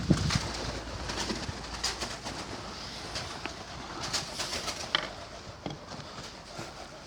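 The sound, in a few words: pigeons cooing in a pigeon loft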